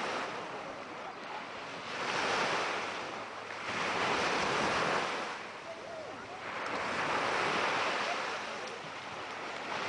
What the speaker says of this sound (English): Here's the beach.